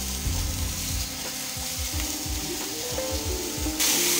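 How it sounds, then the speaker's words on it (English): Oil sizzles steadily on a hot Australian barbecue grill with rissoles, a continuous loud frying hiss with scraping and a spray burst near the end. "that's what you want to hear, a nice sizzle"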